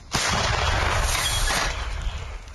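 A single heavy mortar launch blast erupts on the frontline in Ukraine, a broad loud whoosh and boom that lingers and slowly fades, with no voices.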